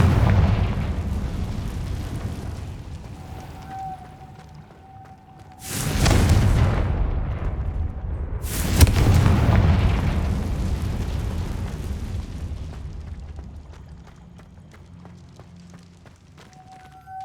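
Confringo blasting spell in the game Hogwarts Legacy, two sharp loud explosions a few seconds apart, each with a rumbling roar that decays slowly amid ambient game sound.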